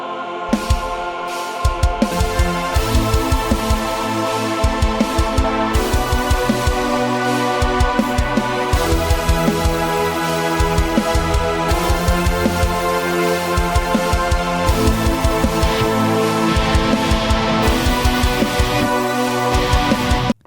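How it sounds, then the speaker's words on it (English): A choir layer in a song production carries sustained sung chords over a full band mix with a steady beat. The mix is loud and continuous for about twenty seconds with no talk. "I used a choir, and it sounds like this."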